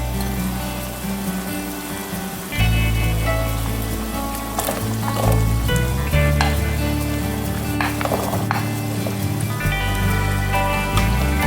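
Celery stalks hitting a hot pan set off a loud, continuous sizzle and crackle that jumps up partway through and keeps spitting steadily, with no talking.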